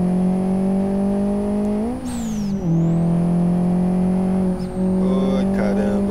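A turbocharged Opel Corsa engine in the Live for Speed racing game drones loudly and steadily, with brief pitch dips as gears shift and then recovers, continuous throughout.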